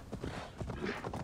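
A horse's hooves clip-clop in a quick, even gait in Assassin's Creed Valhalla, fairly faint and close, with soft game ambience behind.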